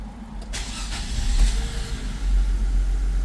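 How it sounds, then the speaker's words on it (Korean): An LPG car's engine, repaired after failing an emissions test, cranks and catches, then settles into a low steady idle with a slight rise in revs, heard close and fairly loud. "시동 걸어 볼게요."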